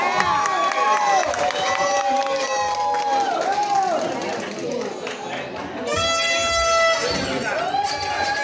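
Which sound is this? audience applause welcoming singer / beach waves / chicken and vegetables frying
audience applause welcoming singer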